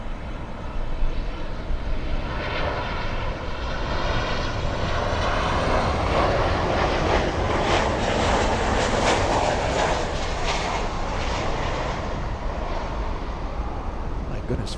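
American Airlines flight 1629, an airliner moving at Miami International Airport, gives a loud continuous engine roar with a whining, fluctuating tone, nearby and sustained throughout.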